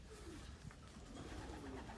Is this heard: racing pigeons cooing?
yes